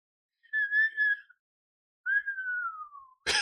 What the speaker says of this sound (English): Did you hear me whistle just then?